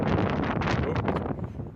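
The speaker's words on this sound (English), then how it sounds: "Really windy." Strong wind gusting outdoors during a pickup reverse light bar install, loud continuous broadband buffeting against the microphone for about two seconds, easing slightly toward the end.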